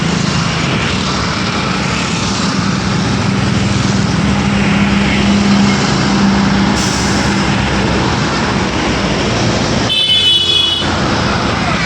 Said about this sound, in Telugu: చూసిర్రా ఎంత ట్రాఫిక్ ఉందో